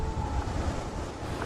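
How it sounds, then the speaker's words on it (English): Ocean waves break over rocks along the cliffs of the Kiama coast at Bombo, Australia, a continuous loud rushing wash mixed with wind noise and no talking. "From crashing waves over rocks."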